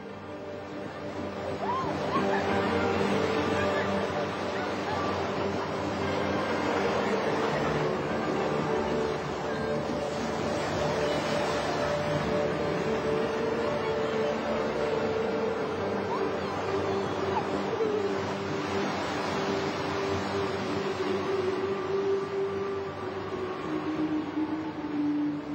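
Cold Atlantic Ocean waves break along the Namibian coast in a steady, full roar of surf that holds at an even loudness for the whole stretch, with no voices over it.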